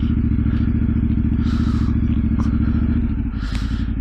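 A Yamaha Ténéré 700 idles and rumbles close up in the rain, with a steady throbbing engine beat, scattered clatters and swishes of wind and water as it turns around.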